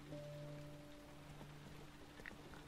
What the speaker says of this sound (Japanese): 雨の音はよく寝れるからな